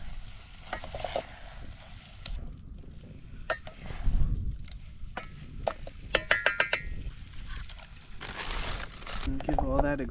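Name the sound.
stirring food in a cooking pot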